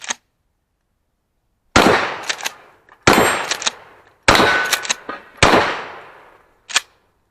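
Mossberg 590 Shockwave shotgun firing Aguila mini shells at a range: a short sharp report, then four loud close blasts spaced about a second apart with ringing decay, and a final quicker shot.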